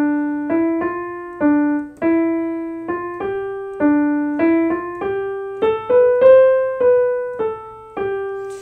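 Solo piano picks out the Deck the Halls melody one note at a time, clear and close, each note ringing briefly at a moderate, even teaching pace with no voices.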